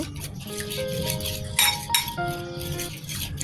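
Metal spoon clinking and scraping against a bowl while garlic, chili powder, salt, cumin and coriander powder are stirred together for hilsa pulao, with sharp ringing clinks and a couple of louder knocks near the middle.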